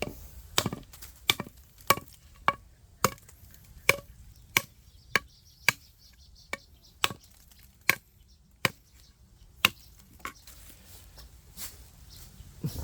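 A handmade knife of plough steel chops with about sixteen sharp, crisp strokes at a steady, slightly uneven pace, close and distinct against a quiet background.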